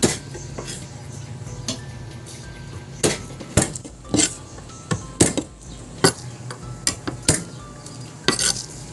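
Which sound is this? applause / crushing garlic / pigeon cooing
crushing garlic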